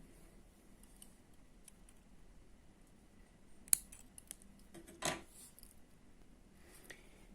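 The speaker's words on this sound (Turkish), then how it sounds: "burada artık ipimi kesiyorum" Scissors snip through thread while finishing a piece of Turkish needle lace (iğne oyası), giving a couple of short, crisp clicks against a quiet room.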